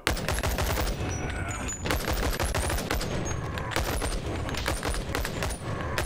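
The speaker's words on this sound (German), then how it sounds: "Schießen ein bisschen." Gunfire in the VR game Boneworks, a dense rapid fusillade of loud close shots running almost without pause, heavy and continuous from start to end.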